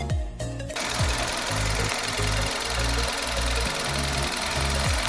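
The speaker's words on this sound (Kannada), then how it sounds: "ಸೊ ರಿಯಲ್ ಇಂಜಿನ್ ಸೌಂಡ್ ನೀವು ಕೇಳ್ಬೋದು" A Maruti Fronx's naturally aspirated four-cylinder engine runs close by with a steady, smooth low drone and even rhythmic pulsing that holds for several seconds after a brief quieter start.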